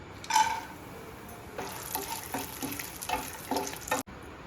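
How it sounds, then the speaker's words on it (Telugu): Dry fruits roasting in ghee in a pan, a quiet continuous sizzle with intermittent stirring scrapes and clinks, close up, cut off abruptly near the end. "ఇప్పుడు ఒక బాండీలో నెయ్యి వేసుకొని డ్రై ఫ్రూట్స్ని రోస్ట్ చేసుకుందాం"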